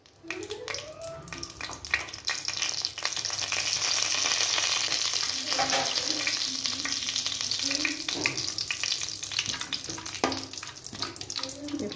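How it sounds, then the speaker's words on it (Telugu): Whole biryani spices fry in about two spoons of hot oil, giving a steady, close sizzle that runs the whole time, with occasional stirring scrapes and light clinks over it. "ఒక 2 స్పూన్లు ఆయిల్ వేసుకొని కొంచెం హీట్ ఎక్కిన తర్వాత ఇందులో బిర్యానీ స్పైసెస్ వేసుకోవాలి"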